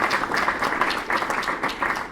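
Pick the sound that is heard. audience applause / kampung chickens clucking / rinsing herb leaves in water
audience applause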